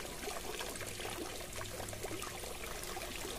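Water drains steadily out of a daphnia culture tank in a continuous, close, fairly loud trickling pour with no break and no voices.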